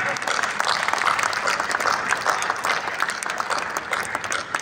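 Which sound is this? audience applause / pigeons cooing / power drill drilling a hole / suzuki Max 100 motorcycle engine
audience applause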